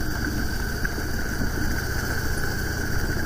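A Harley-Davidson motorcycle engine with its stock muffler idles steadily, a deep rumbling low throb with a constant mechanical whine above it, heard alone at moderate volume.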